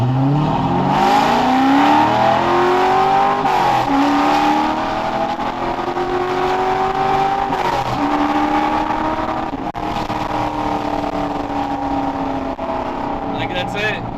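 A Corvette-based project car accelerating hard in a flat-out pull toward redline, the engine note climbing steadily through the gears with brief dips at shifts, loud and close from inside the cabin.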